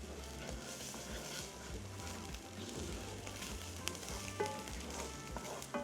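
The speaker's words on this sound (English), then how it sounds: "Saute that for about 10 to 20 seconds. And I'm only adding about a tablespoon. And I'm just gonna stir it in." A sautéing ingredient sizzles in a skillet with a faint, steady frying hiss and occasional soft stirring scrapes, quiet and continuous without speech.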